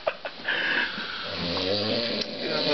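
A man snores loudly and close at night, a long rasping inhale after a couple of short sniffs, rumbling on without any talk.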